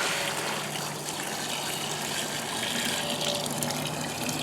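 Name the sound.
water pouring into a cooler for brewing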